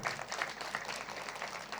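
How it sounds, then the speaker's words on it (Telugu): An audience at a spiritual meditation gathering applauds, a faint, distant, continuous patter of many hands clapping for under two seconds. "గట్టి క్లాప్స్ అండి వీరందరికీ కూడా"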